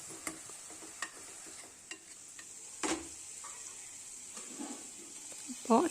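Onions and ginger garlic paste being stirred in a pan for chicken kulambu, a soft sizzle under occasional spoon taps and scrapes, with a short voice near the end.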